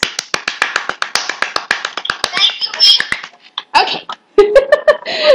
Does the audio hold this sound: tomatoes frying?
no